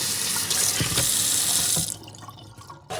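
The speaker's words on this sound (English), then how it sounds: "Cold water, rinse it out." Cold tap water runs steadily into a sink, splashing as salt cod is rinsed under it, loud and continuous before cutting off abruptly near the end.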